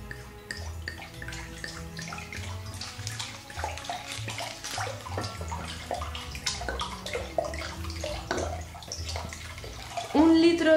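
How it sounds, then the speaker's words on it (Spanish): Water poured into a cooking pot to make spiced pears with chai spices, a gurgling, splashing stream under background music, which gets louder and fuller toward the end. "Primero lo que vamos a hacer es añadir el agua."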